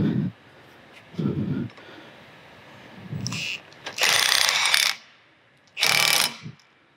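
A lock nut is tightened on a transport tank's rear valve with metal tools, giving a few short ratcheting and clanking bursts separated by pauses, close and fairly loud, with no talking.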